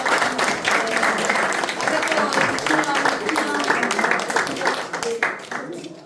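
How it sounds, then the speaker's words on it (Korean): Clapping from an audience at a Korean forum lecture, a broad steady wash of many hands sustained for about six seconds before tapering off slightly at the end. "다시 한번 박수 주세요."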